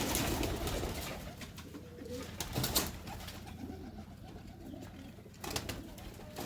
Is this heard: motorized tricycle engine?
no